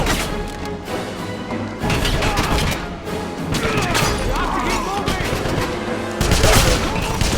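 Heavy gunfire in the Wolfenstein shooter game, sustained bursts and a continuous loud fusillade with thumps and crashes mixed in, close and intense throughout, with shouted voices partly buried in the din.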